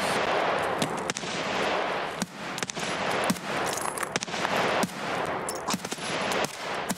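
Gunfire in the Escape From Tarkov video game on the Ground Zero map, several loud sharp shots and short bursts in quick succession, near and dominant.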